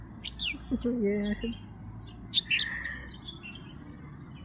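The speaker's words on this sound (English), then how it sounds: "And there is a bird." Birds chirp in a quiet village outdoors, with several short, bright calls spread across a few seconds and a person briefly speaking.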